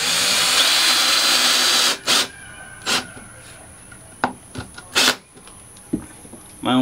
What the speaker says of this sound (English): I'm going to start screwing these things in